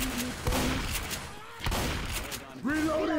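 Bursts of gunfire at zombies in the co-op shooter Left 4 Dead 2, in a park level of The Parish, with several loud shots in quick succession amid game noise and voices talking over the action.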